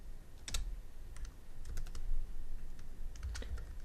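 Keys clatter on a computer keyboard while code is typed, irregular bursts of close, crisp clicks with short pauses between and no speech.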